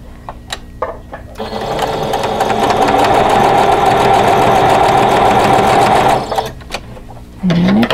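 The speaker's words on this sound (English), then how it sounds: "And then we're going to sew this seam" A domestic sewing machine stitches a quilt block seam in one continuous whirring run of about five seconds, with light handling clicks before and after.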